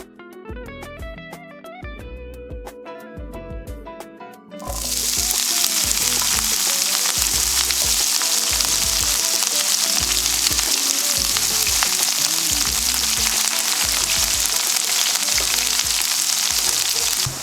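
Mincemeat fries and is stirred in a pan for a British cottage pie, with a loud, continuous, close sizzle that bursts in suddenly and holds steady alone, with faint scraping from the stirring.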